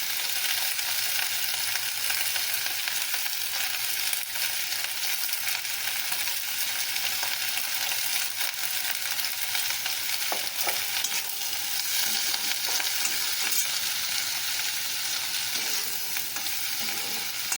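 Flat beans sizzle steadily in a pan with salt and turmeric, a constant bright frying hiss with a few faint clinks partway through, no voices.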